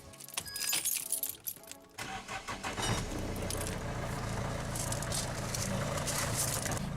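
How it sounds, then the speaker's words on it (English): Keys jingle, then a Vauxhall Astra 1.7 CDTI diesel engine cranks and catches, settling into a steady, close rumbling idle. "So I'm just going to run the engine, let it heat up for sort of 2 or 3 minutes"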